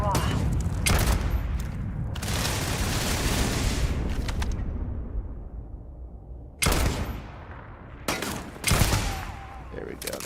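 Gunfire in the video game Starfield, dense bursts of shots rattling close and loud, dropping away and then returning in short sharp volleys, with a player talking over parts of it.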